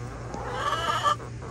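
A broody hen sitting on a clutch of eggs gives one drawn-out, nasal, moaning call at close range against a low background hum.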